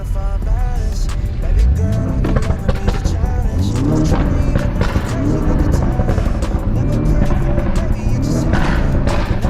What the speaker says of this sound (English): I'll give you guys some revs real quick.